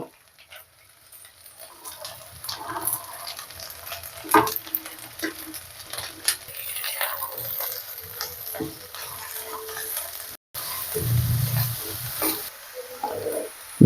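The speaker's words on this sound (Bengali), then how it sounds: "আদা রসুনটা হালকা ভাজা গেলে আমরা দিয়ে দিচ্ছি বাকি সবজিগুলো" Mixed vegetables stir-frying in a pan with lightly fried ginger and garlic, a steady moderate sizzle with intermittent scraping and stirring clatter throughout, and no talking.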